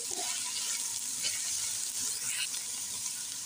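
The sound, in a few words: cabbage being stirred and fried for soup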